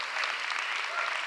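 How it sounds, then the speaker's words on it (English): Audience applause at a Philadelphia mayor's State of the City address, a dense, steady wash of many hands clapping at once, loud and sustained throughout with no break. "Give a round of applause for Market East."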